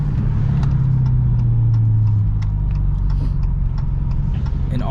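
A 2023 Dodge Challenger Scat Pack with its mid muffler and resonator deleted, heard from the cabin with both windows partly down: a loud, steady, low exhaust drone throughout, with faint light ticking on top.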